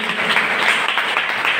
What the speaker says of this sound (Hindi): तालियों में कमी ना होने पाए प्लीज